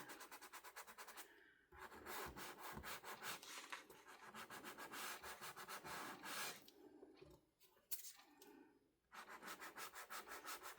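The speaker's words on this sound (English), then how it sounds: "Turn down your volume because here comes the sandpaper." Sandpaper rubbing against the corners of playing cards, a close, steady scratchy scraping in quick repeated strokes with a few short pauses.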